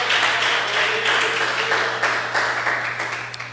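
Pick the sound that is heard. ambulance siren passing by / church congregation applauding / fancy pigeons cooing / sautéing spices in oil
church congregation applauding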